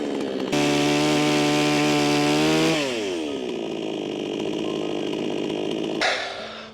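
A chainsaw held in a jig revs up loudly and steadily, then its pitch drops as it bogs into a tree trunk, running under load for several seconds before cutting out abruptly.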